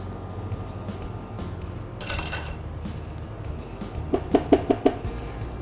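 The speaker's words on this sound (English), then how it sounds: "Stir all that green apple in." Grated green apple being stirred into a prawn curry in a pan: a steady low simmering bed with a brief scraping swish, then a quick run of four or five close metallic clinks and knocks of utensil against pan.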